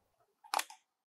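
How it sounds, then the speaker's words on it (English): Pentax MX film camera advancing its film and firing the shutter, a quick mechanical click-clack burst of about a third of a second, close and fairly quiet, with no talking. "You can now advance the film and release the shutter, repeating until the film indicator is set to zero."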